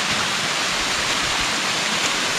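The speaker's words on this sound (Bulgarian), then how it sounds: "А, ето го пред нас и водопада вече се появява." The small Kolarovo waterfall spilling with little water above Kolarovo village, heard as a loud, dense, continuous roar of falling water, close and unbroken from start to finish.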